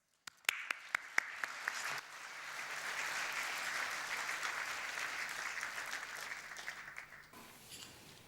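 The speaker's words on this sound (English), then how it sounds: "Please welcome up to the stage with a big round of applause Alia Azugbi, Khaled Hakim, and Niri Sadeh" A few scattered claps start off, then an awards-ceremony audience breaks into sustained applause that fills the room before cutting off abruptly.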